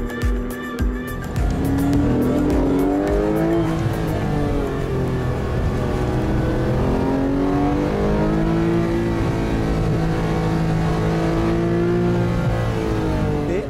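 A GT3 race car drives hard on a track, its engine loud and close, climbing and dropping through repeated gear changes as it accelerates and brakes, with no pauses throughout.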